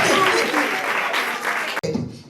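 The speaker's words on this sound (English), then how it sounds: "Please clap for him." A crowd at a university education fair claps, dense applause filling most of the moment alongside talking voices, then dropping abruptly to a thinner, quieter patter.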